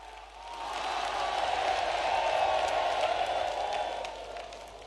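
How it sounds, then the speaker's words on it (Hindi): A large crowd applauds to welcome the prime minister at a gathering in Bageshwar, a steady wash of clapping that swells over a few seconds and then eases off. "जोरदार ताली बजा करके हम सब पूरा बागेश्वर परिवार स्वागत करें।"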